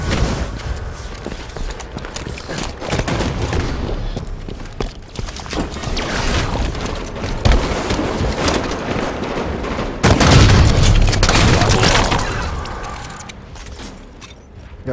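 Gunfire and explosions in the video game Halo 5 Guardians, Warzone mode, crackle in loud bursts amid running footsteps and mechanical clatter, with a heavy blast near the ten-second mark.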